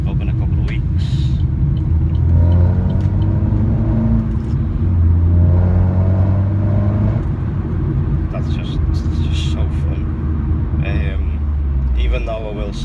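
A Vauxhall Corsa VXR's engine and exhaust rumble from inside the car, a loud, deep drone that rises and falls as the revs climb and settle, with a voice talking over it throughout.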